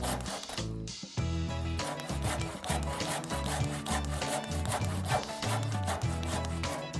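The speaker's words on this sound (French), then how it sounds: "Sciez ensuite la dernière partie directement en bas. De cette façon, vous serez plus sûr d'obtenir une coupe droite" Hand saw cutting straight down through a wooden tenon, rapid rhythmic rasping strokes close up after a brief pause near the start, with no talking.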